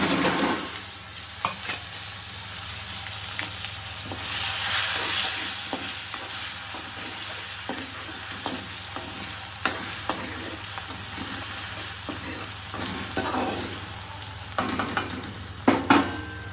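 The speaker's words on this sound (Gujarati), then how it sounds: "ટમેટા તેલમાં ચડાવવા મળે ને એટલે તરત આપણે હળદર નાખી દીધી" Tomatoes frying in oil with turmeric, curry leaves, whole chillies and crushed ginger for Gujarati dal dhokli, a continuous close sizzle punctuated by scattered spatula clicks and scrapes, a couple of louder knocks near the end, no voices.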